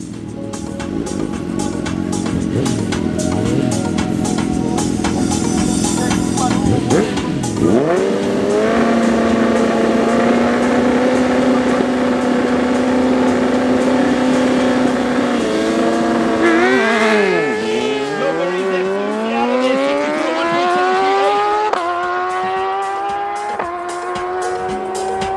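An Audi RS7 race car at a drag race, loud and close, the engine revving hard, then shifting through gears with rising pitch sweeps and a sharp drop as it accelerates away.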